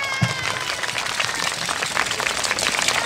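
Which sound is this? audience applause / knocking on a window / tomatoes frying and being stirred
audience applause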